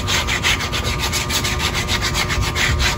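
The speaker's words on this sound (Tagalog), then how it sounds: "Kikinisin na natin ito. Ganito lang, liha tsaka kahoy." Steady back-and-forth rasping of number 80 sandpaper rubbing on wood, close and continuous with a regular rhythm.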